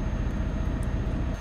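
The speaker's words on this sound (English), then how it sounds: "oh we have an airport nearby that's a plane" A jet airplane flies over from a nearby airport in the Euro Truck Simulator 2 game, heard as a steady, loud broadband roar that holds evenly throughout.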